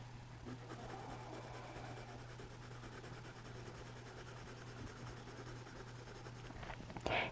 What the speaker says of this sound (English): So color, color, color, turn the pencil